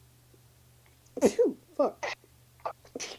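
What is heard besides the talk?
sneezes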